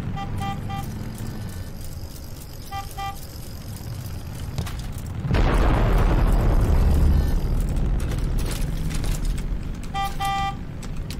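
A loud explosion bursts out in the battle royale game Totally Accurate Battlegrounds, a broad sustained blast roaring for several seconds over game ambience, with faint beeping tones before and after.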